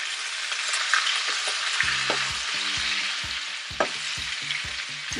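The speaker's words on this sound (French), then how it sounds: "Vous voyez que ça commence à griller." Spinach and pork ribs fry in a hot pan with a bright, continuous sizzle, broken by a few sharp clicks and utensil taps, while low tonal notes sound underneath.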